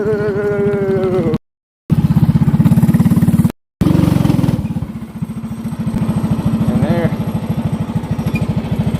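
A go-kart powered by a Predator 212 engine runs loud and close, with a steady rough putter and revving swells; the sound cuts out twice briefly, and a voice talks over it for a moment.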